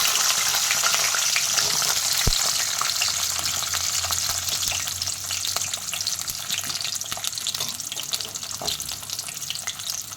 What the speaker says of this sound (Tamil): நல்லா பருவுற மாதிரி பூண்டை நல்லா வறுத்துக்கலாம்.